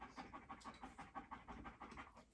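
A dog named Brutus lies on the floor panting heavily in the heat, a steady close rhythm of quick breaths repeating throughout, fairly quiet and with no talking.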